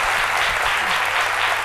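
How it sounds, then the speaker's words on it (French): A studio audience applauds loudly and steadily for a guest on a French-language midday TV show, a dense continuous clapping throughout. "Je vous demande de l'applaudir très très fort"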